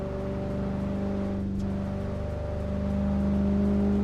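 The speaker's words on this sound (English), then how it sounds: "We're driving the Cadillac CT5V. Beautiful car. Even better sound." Constant low engine hum of a supercharged V8 Cadillac CT5-V in a racing video game, with a steady whine layered on top, rising slightly toward the end, no voices.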